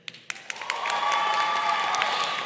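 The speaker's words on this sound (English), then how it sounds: "Let's once again give our faculty a fantastic round of applause" Graduation ceremony audience applauding faculty at an engineering graduate recognition event, starting as a few scattered claps and swelling into a steady, full round of clapping from a large room.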